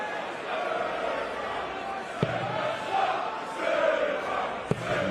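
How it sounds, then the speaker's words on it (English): A packed arena crowd at the 2024 PDC World Darts Championship, during a third-round match, roars and chants in a steady, dense wall of voices, swelling slightly toward the end, with two sharp knocks punctuating the noise. "And the crowd find their voice again."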